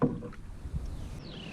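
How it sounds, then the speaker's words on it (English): A Northstar Trillium canoe paddled solo, a soft paddle stroke and water swish up close, with light wind noise over the microphone. "I've been paddling around on my knees, which feels really nice and stable"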